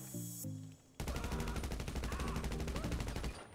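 Rapid bursts of gunfire from a Special Carbine Mark II in GTA Online's Doomsday Heist, a steady stream of close, loud shots following a brief musical tone.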